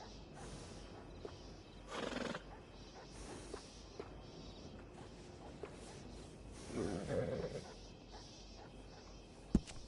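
Two whinnies rise from a horse in a PS4 video game, one early and one later, standing out from low background ambience, followed by a sharp click at the end.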